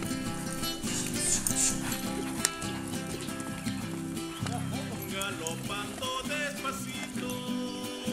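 Horse hooves clip-clop on the ground during a muleteer trek with riders and several horses. The steps mix with people talking and with what sounds like music, and the whole scene is fairly busy.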